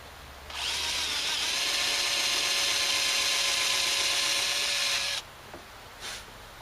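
Harbor Freight cordless drill boring holes for a rotted bench repair, one steady high-pitched whine running about five seconds at close range, then stopping with a brief short burst after.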